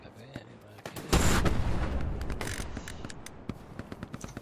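Gunfire in the video game Hell Let Loose at Sainte-Marie-du-Mont: a sharp loud blast followed by scattered shots and clattering bursts that fade into intermittent pops, with faint voices in the mix.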